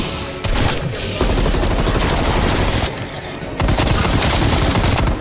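Dense, loud gunfire fills a split-screen Call of Duty zombies match on PS5, with continuous overlapping automatic shots and booms rolling on without a break.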